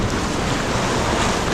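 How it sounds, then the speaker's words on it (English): Ocean waves surging up a Costa Rica beach where someone is fishing from the sand, a steady loud wash of surf with wind buffeting the microphone throughout. "See the waves coming in."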